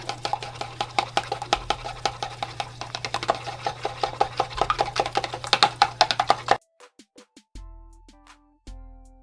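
A homemade cucumber serum gel is stirred briskly, giving rapid rhythmic clicking and scraping taps of a utensil against the container, then the stirring stops and a few sparse knocks and tones follow.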